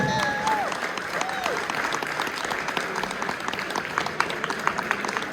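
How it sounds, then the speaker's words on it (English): A crowd at a kart racing awards ceremony breaks into sustained applause, steady and dense, with a voice or two briefly audible over the clapping. "A round of applause for the Danny Nunn."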